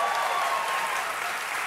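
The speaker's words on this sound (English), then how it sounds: "Oh, they're applauding 9 years." A television studio audience applauds in a dense, steady burst, loud and close, with no talk over the clapping for nearly two seconds.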